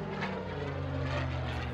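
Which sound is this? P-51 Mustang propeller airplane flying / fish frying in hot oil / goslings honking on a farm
P-51 Mustang propeller airplane flying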